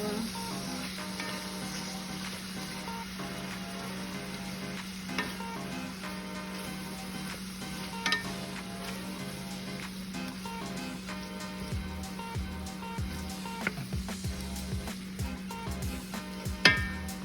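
Ground beef cooks down in a pan, giving a low continuous sizzle with occasional scrapes and clinks of stirring throughout. A steady hum runs underneath, and a few sharper knocks come toward the end.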